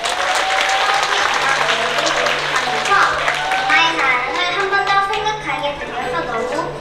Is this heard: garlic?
no